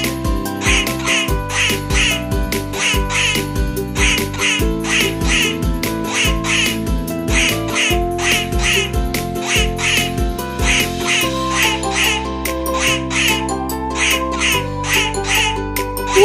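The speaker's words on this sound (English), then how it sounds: "I'm a duck." Cartoon duck quacks in an animal puzzle game for children, repeating in a bouncy, even rhythm over a cheerful musical backing for the whole stretch.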